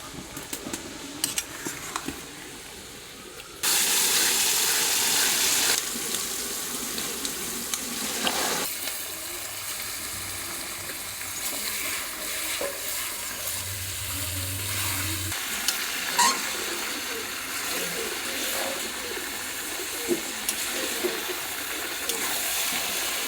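Chopped onion and a ground paste of ginger, garlic, green chilli, dried chilli and cumin fry in a pan with a steady sizzle, a loud hissing burst near the start and occasional stirring clinks, with no talking.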